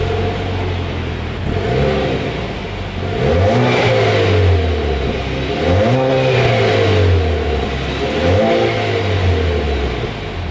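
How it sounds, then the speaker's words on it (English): A Chevrolet Camaro's exhaust rumbles loudly up close, revving up and falling back in several deep swells over a steady idle. "As always, here is that exhaust clip."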